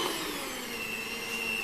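An electric mixer runs steadily while kneading potato donut dough, giving a continuous whirring motor drone with a high tonal whine. It is close and loud throughout, and no one speaks over it.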